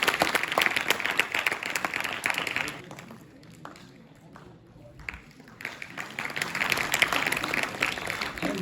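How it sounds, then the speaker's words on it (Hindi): A welcoming crowd applauds a guest at an intercollege function, clapping strongly, fading to a quiet lull midway, then swelling back up to full applause. "तालियों के साथ स्वागत और अभिनंदन।"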